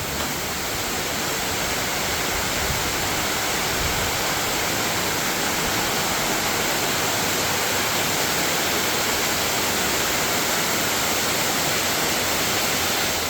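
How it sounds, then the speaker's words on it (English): Heavy tropical rain pouring down in Malang, Indonesia, a dense, steady roar like a waterfall that stays loud and unbroken throughout. "It's just a wall of rain. Unbelievable. The whole waterfall falling from the sky."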